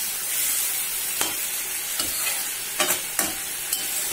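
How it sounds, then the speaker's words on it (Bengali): A ground paste of onion, garlic, ginger, green chilli and black pepper fries in a pan for a Bengali oyster curry, giving a steady close sizzle with a few sharp scraping stirs. No one speaks. "এবারে বেটে রাখা মশলাগুলো দিয়ে দেব। এটার মধ্যে রয়েছে পেঁয়াজ, রসুন, আদা, কাঁচা লঙ্কা আর গোলমরিচ।"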